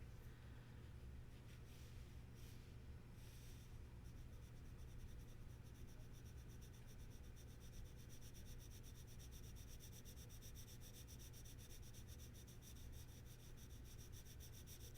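Rembrandt Lyra gray colored pencils shading across paper make a faint, steady, close scratching and rubbing. It continues without pause and with no voices.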